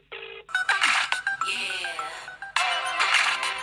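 A phone rings unanswered in a Telugu comedy short, a bright melodic ringtone repeating in loud bursts for a few seconds with brief gaps and no one picking up.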